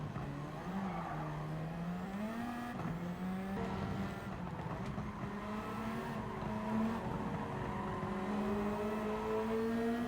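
Race cars in Gran Turismo 7 drone steadily with engine pitch rising and dropping through gear changes, plus faint tyre squeal, constant and close with no voices.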